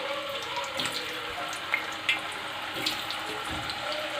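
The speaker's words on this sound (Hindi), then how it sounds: "अब इसको फ्राई करते हैं। ऑयल हमारा बहुत अच्छा सा गर्म हो गया है। अब इसमें इनको डाल लेते हैं।" Potato fries dropped into hot cooking oil give a steady, loud frying sizzle with scattered crackles and pops throughout, no talking.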